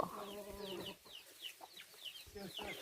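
Chickens cluck close by in short repeated bursts, with a hen's longer harmonic call at the start and chirpy higher notes scattered through, over faint background sound.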